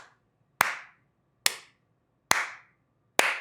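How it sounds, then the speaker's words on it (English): Four sharp, single hand claps spaced about a second apart, each crisp and close with a short ringing tail, separated by silence. "It deserves a round of applause."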